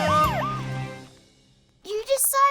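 A cartoon emergency-vehicle siren wails in a rising and falling sweep, short and loud, then fades into quiet before a bright animated voice cuts in.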